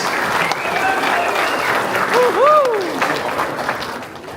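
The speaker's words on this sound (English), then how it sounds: "Round of applause, everyone." Audience applause at a Samoan gospel show, a steady wash of clapping from a crowd, with a voice rising over it midway.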